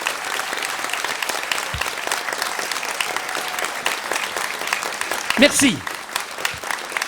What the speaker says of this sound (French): C'est gentil de m'applaudir